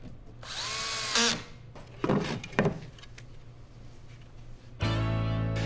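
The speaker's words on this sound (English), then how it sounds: "driving screws to bring all the pieces together" A power drill drives screws into the pocket holes of a wooden cabinet face frame in short bursts, with a brief whir early, a couple of sharp knocks midway, and a loud sustained run at the end.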